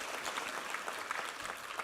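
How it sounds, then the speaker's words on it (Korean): A church congregation at a Korean Sunday worship service gives a short burst of applause in praise, a dense, steady patter of many hands at moderate distance with no talk. "우리 하나님께 감사와 영광의 박수 올려드리겠습니다"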